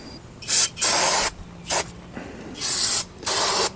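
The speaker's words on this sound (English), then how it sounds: "All right, we'll just spray it off." Several sharp bursts of pressurized spray hiss on and off over a car brake drum, some short and some lasting about half a second, with brief quiet gaps between.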